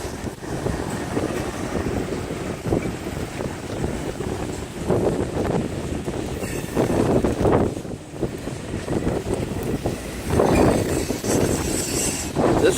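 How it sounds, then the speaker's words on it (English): A long train rumbles by outdoors, its steady rolling noise swelling in places and mixed with wind buffeting the microphone, with no talk. "that's a long train, looks like right there"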